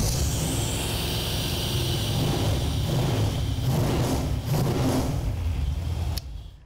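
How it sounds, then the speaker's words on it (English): A car engine runs steadily and loudly, idling with a few swells in revs, during live oxygen sensor diagnosis before cutting off abruptly near the end. "Sounds great. I love that engine."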